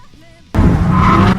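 A car drifts through a big turn after a straight on a drift course. The tires break into a sudden, loud, close skidding squeal with engine roar that lasts to the end.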